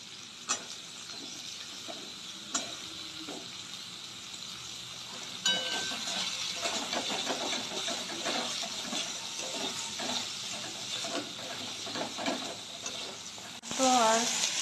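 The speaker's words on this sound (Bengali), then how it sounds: "এবার টমেটো আর ক্যাপসিকাম কেটে রেখেছিলাম দিয়ে দেবো এর মধ্যে।" Chopped tomato and capsicum sizzle and fry in a pan while being stirred for paneer bhurji, a steady soft crackle throughout with a few scraping clicks and a louder clatter near the end.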